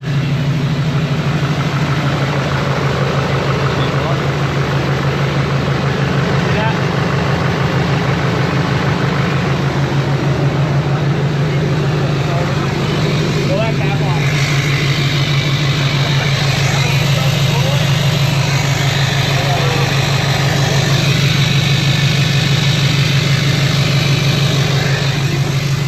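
An LBZ Duramax diesel truck engine runs steadily close by for about twenty-six seconds, a loud, constant low rumble and idle with a mechanical drone, and people talk over it.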